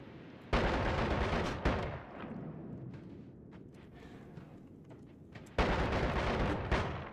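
Two heavy booming blasts from unstable crystals exploding in a wizard video game, the first at the start and the second near the end, each a broad roaring burst followed by a rumbling decay, with fainter crackles in between.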